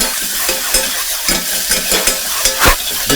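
Unsalted butter sizzles and spits in a hot saucepan, a steady loud crackling hiss with sharper pops throughout and no voices.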